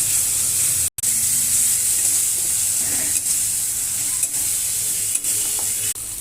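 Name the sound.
spice paste frying and being stirred in a pan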